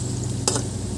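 Green rice patties (chả cốm) fry in a pan with a steady, close sizzle and one brief louder crackle midway, no talking.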